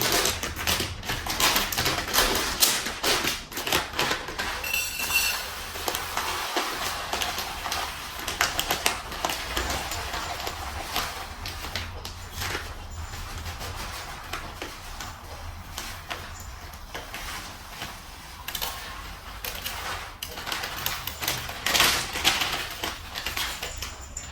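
Uncooked rice pours out of an opened 1 kg bag in a dense, dry, rattling patter of countless tiny grains that continues close and fairly loud, with small shakes and taps along the way.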